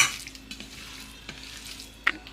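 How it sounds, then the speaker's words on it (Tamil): Chicken is mixed by hand with salt and curd for a marinade. Soft, quiet squishing and stirring runs throughout, with a few light clicks and a brief sharper tap near the end. "உப்பு தேவையான அளவு எல்லாம் சேர்த்து இப்படி கலந்து வச்சுக்குவோம்"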